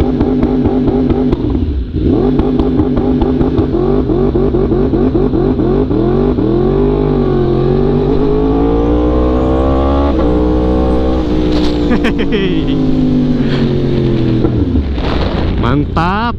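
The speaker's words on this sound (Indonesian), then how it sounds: "Aku suka sih launch control kayak gini karena suaranya madep ya." A Yamaha R1M motorcycle engine holds a loud, continuous, raspy rev on launch control, staying close and steady with a slight pitch sag and recovery partway through. Someone speaks over the engine.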